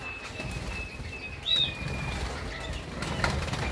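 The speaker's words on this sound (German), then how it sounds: "Weil wenn ich von der Seite hier reingehe, das ist ja nun mal ganz klar, da fliegen die alle da hinten hin." Canaries flapping their wings as they fly inside a flight box set up for bathing, with a short burst of fluttering midway over steady low background noise and a faint chirp.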